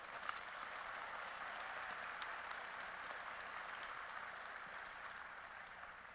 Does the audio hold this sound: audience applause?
yes